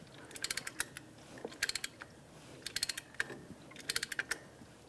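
Brake caliper piston on a Jeep Renegade being pushed back, heard as bursts of quick metallic clicks and ratcheting taps in several short clusters, close but fairly quiet.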